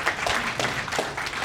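A live audience at an Asian Canadian intercultural dialogue event in Lethbridge claps for a panel of speakers, giving a short burst of steady, fairly loud applause with no voices on top.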